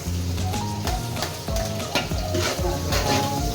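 Onions sizzle and fry in a hot pan with garlic, a continuous crackling hiss close by, broken by repeated scraping stirs of a utensil against the pan.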